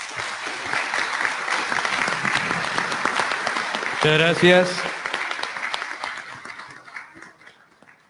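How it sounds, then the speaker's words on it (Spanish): Audience applause at a forum on women in engineering and STEAM, steady clapping from a crowd with a person speaking briefly over it midway before the clapping fades out. "un aplauso"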